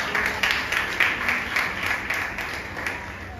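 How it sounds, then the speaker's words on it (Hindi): Congregation clapping during a church sermon about Jesus, a steady dense patter of many hands at moderate distance that fades slightly toward the end. "तालियां नहीं बजाएंगे यीशु के लिए?"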